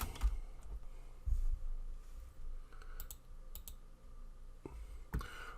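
Typing on a computer keyboard while entering text in Word, a quiet string of irregular key clicks with a few louder taps, close and alone with no talking.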